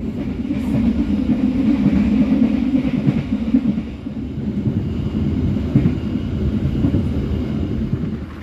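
The Logawa passenger train pulls out of Purwokerto station bound for Jember, a loud, steady low rumble of railcars rolling over the track with a slight dip midway, heard from on board.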